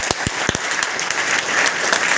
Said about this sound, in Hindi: DXN के लिए ताली होनी चाहिए